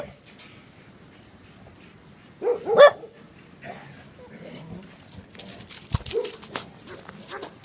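A dog lets out a short, loud burst of barks amid an outdoor dog shelter's ambience, followed by quieter rustling and a soft whimper, with no talk heard.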